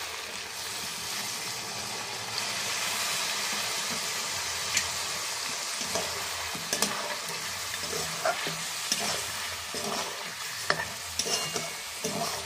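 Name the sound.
sautéing chicken with added marinated yogurt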